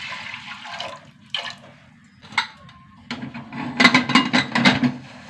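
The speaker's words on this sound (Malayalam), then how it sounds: "കുറച്ച് വെള്ളം ഒഴിച്ച് കൊടുക്കാം" Water is poured into a pot of lentils for a coconut-free dal, coming in short splashy bursts and then a longer, louder gurgling pour close by.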